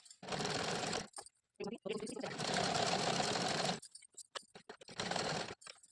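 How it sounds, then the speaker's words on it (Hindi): A sewing machine runs in close bursts as it stitches the hem of an Afghani salwar, long whirring runs broken by short pauses and quick stop-start stitches toward the end. "इसके ऊपर से फिर से हम एक सिलाई लगा दे रहे हैं"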